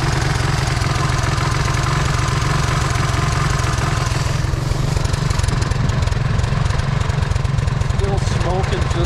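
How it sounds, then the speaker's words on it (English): A Honda 185S three-wheeler engine idles steadily and loudly at close range, a continuous low chugging throb that runs throughout with a slight change in texture midway. "This is how different it idles."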